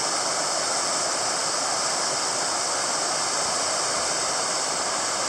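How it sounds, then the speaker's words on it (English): Running stream on the Kungsleden trail, a steady full rush of flowing water, loud and unbroken throughout with no voices. "Time to get a little water out of the running stream."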